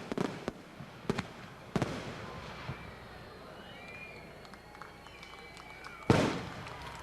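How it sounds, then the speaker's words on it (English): A Zambelli International fireworks display bursts in a series of sharp, booming explosions with crackling trails between them, ending in one loud, bright blast, heard from a distance outdoors. "the Pennsylvania-based Zambelli International Fireworks Company put on a spectacle for everyone"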